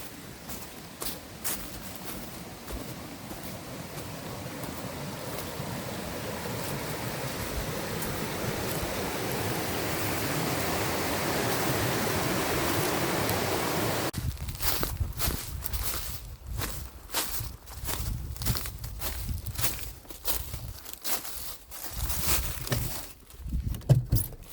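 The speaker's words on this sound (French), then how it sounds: "On entend un ruisseau, une chute même" A stream spilling over a small waterfall between Lac Bob and Lac Kay hisses as a broad steady rush that swells nearer over the first half, then breaks into crunching footsteps on a forest trail with the water fainter behind.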